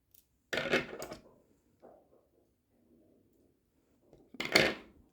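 Scissors snip thread while making Turkish needle lace, two short crisp cuts close by with quiet handling noise between them.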